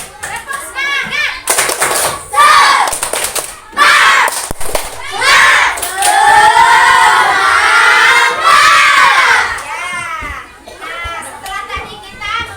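A classroom of children does a 'tepuk semangat' clapping chant, rhythmic claps and loud shouted chanting filling the room, with kids' voices rising and overlapping throughout.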